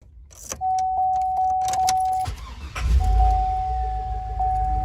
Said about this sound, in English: Start it up and let it idle.